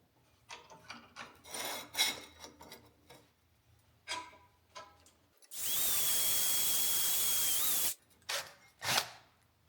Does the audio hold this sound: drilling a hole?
yes